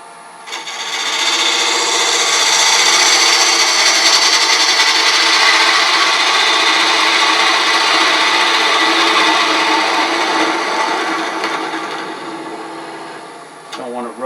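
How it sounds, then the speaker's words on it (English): A walnut box spins on a wood lathe while a spindle gouge cuts, giving a steady close rubbing, scraping whir that runs for most of the clip before easing off. "I can probably relieve a little bit of that with a spindle gouge."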